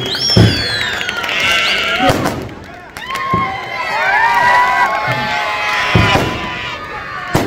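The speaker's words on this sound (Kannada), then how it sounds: "ಮತ್ತೊಮ್ಮೆ ಚಪ್ಪಾಳೆಯನ್ನು ತಟ್ಟಿ ಅವರಿಗೆ ಪ್ರೋತ್ಸಾಹಿಸಬೇಕು" An audience at a village religious-awareness gathering in a bazaar claps to encourage a young speaker; dense, steady applause mixed with crowd noise and cheering fills the clip, with a few sharp louder bangs and voices.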